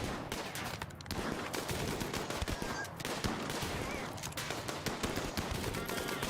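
Shotguns and assault rifles fire in RimWorld combat, dense overlapping bursts and rapid reports rattling on without pause over a busy background.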